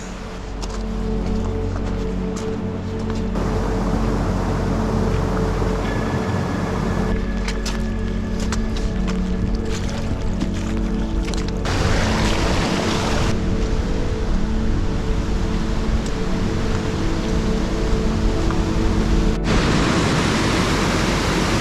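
Steady, loud rushing water fills the whole stretch, a dense broadband roar like a swollen river heard from nearby, with wind buffeting in places. It is the River Lisa near Black Sail Youth Hostel in England, swollen after heavy overnight rain.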